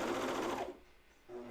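A coverstitch sewing machine runs along the wiggly cut edge of a pajama top in one steady, close burst of stitching that stops abruptly, leaving a short quiet gap before a fainter hum resumes.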